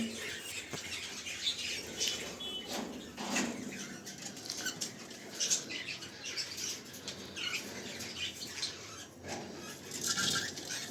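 A pair of pet cockatiels, a lutino female and a pied male, squawk and chatter in a cage with scattered wing flaps and scratchy patter, steady and fairly close throughout.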